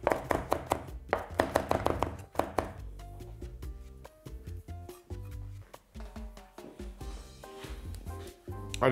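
Fresh coriander is chopped finely with a knife on a cutting board in rapid, close, crisp knocks, with faint background music running underneath.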